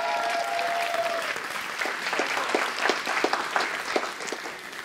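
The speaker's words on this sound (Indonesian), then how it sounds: "Tepuk tangan." Studio audience applause for an Indonesian talk show opening on a warung set, a dense wash of steady clapping that swells with sharper individual claps toward the end, with no talk over it.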